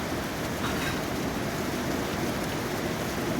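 Heavy rain falls over Dhaka city, a soft, constant wash of noise at moderate distance that holds steady without pauses or voices.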